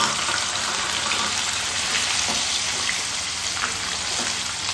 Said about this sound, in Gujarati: હવે આપણે પનીર ફ્રાય કરી લઈશું